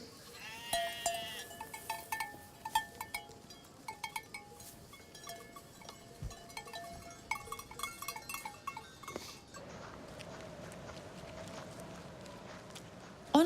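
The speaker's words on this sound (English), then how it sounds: "the summer school students research the numbers of sheep and goats grazing on common land" Sheep and goats grazing on common land on Samothraki, with scattered bleats and bell clinks over an outdoor hush, fairly faint and spread across the whole stretch, with no talk.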